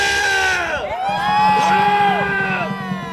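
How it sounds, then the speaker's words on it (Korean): A crowd at a political rally in Korea shouts and cheers loudly, with sustained whoops and yells rising and falling over a steady roar for about three seconds. "자, 여러분 함성 질러!"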